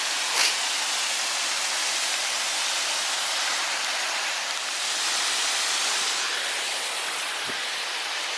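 Mountain creek water in the Desolation Wilderness rushes steadily nearby, a broad, even hiss of flowing water that holds at the same level throughout, with no voices.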